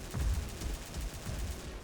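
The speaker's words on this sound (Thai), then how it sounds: "ยิงต่อ อัดแม่งนี้เลย" Rapid bursts of gunfire from the XSHOT online shooter game, a dense rattling stream of shots at moderate level with no talk over it.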